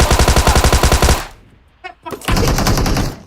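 Rapid automatic gunfire in the mobile battle royale game PUBG Mobile, a loud rhythmic burst of shots for about a second, then a short quiet gap with a few faint pops before another dense burst of firing.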